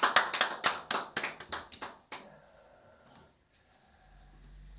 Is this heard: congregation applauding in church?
yes